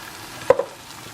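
Spaghetti sauce stirred in a pan on the stove, two quick spoon scrapes close together over a faint, low background sizzle.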